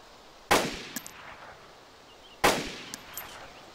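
Two sharp video game gunshots ring out about two seconds apart. Each loud crack decays quickly and is followed by small faint clicks.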